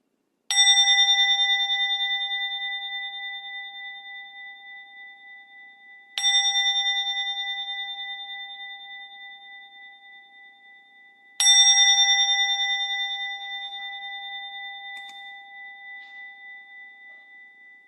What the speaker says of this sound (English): So with that, let's ring a bell